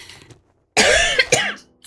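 One person coughs hard at close range, a harsh burst followed by a second shorter cough, with brief quiet before it and no talk.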